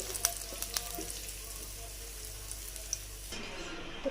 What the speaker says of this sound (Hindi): इसी तरह से बाकी भी हम फ्राई कर लेंगे